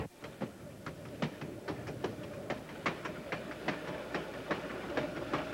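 An ET&WNC (Tweetsie) freight with caboose rolls over dual gauge track between Johnson City and Elizabethton in the war years, a steady rhythmic clickety-clack of wheels over rail joints heard from the rear platform, moderately quiet.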